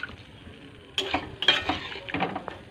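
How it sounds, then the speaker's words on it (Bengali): A metal spatula stirring boiled vegetables with turmeric in a pan, giving several distinct scraping clinks and knocks over a soft background hiss, close and moderately loud. "এর মধ্যে একটু হলুদ গুঁড়ো দিয়ে দিয়েছি, দিয়ে একটু খুন্তি করে নেড়ে দিচ্ছি।"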